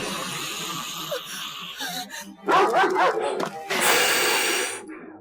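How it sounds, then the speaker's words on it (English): A dog on an animated show barks and yips in a few short bursts with whimpers between them, near and fairly loud, mixed with other soundtrack noise. "Whose dog is that?"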